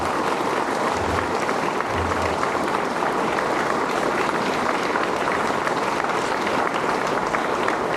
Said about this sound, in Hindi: मैं चाहता हूं एक बार जोरदार ताली बजे, जोरदार।